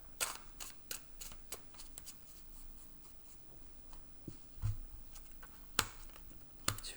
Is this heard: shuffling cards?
yes